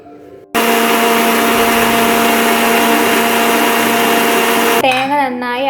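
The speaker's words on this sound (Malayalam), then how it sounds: "നേരത്തെ വറുത്ത് വെച്ച് തേങ്ങ അരച്ചെടുക്കാം" A mixer grinder grinds roasted coconut for Palakkad-style sambar, starting abruptly into a loud, steady motor whir that runs several seconds before cutting off, followed by a voice speaking.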